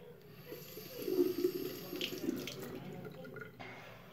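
Water runs from a tap at a sink to wet a hairbrush: a soft, steady stream that swells briefly in the middle, heard quietly and alone.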